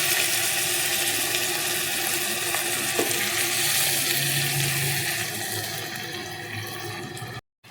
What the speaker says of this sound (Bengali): চিকেন পিসগুলো ফ্রাই হয়ে গেলে এরপর আমি সামান্য জল দেব।